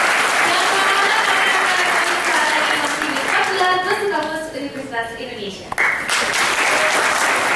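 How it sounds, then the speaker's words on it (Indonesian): Audience at a University of Indonesia campus event applauding, steady dense clapping that continues under a speaking voice and some tonal sounds before settling. "Boleh tepuk tangan yang beriak."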